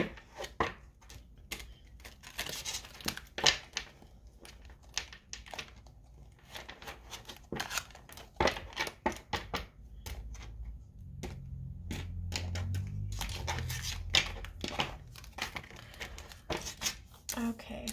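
Quick bursts of crinkly, papery tarot card riffling and slapping, close by, in several rapid runs with a low rumble underneath.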